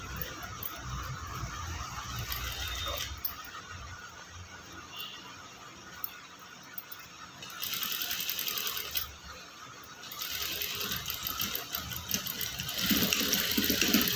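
A sewing machine runs in bursts as it stitches lining cloth onto a jeans top, a whirring mechanical rattle that surges louder for a few seconds at a time, with quieter gaps between runs.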